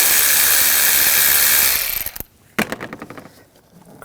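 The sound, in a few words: socket ratchet loosening air intake clamp, Audi S4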